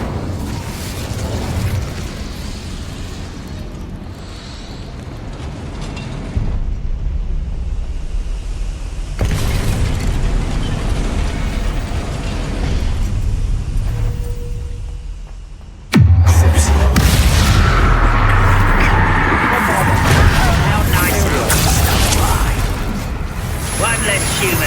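The Incendio fire spell in Hogwarts Legacy goes off as a loud, roaring burst of flame with a sudden heavy blast partway through, over a continuous rumbling game soundscape with spoken voices.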